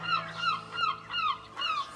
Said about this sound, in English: I love these noisy birds.